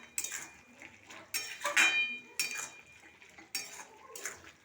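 A spoon stirs a bottle gourd and shrimp curry in a metal pot, giving several bursts of scraping and clinking, close by, with short pauses between the strokes.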